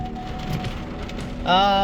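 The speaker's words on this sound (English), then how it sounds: "There's definitely hail in this, and I heard a couple ping off my vehicle." Hail and rain pelt a vehicle during a storm chase, a dense patter with scattered sharp pings, and a steady tone rises abruptly near the end.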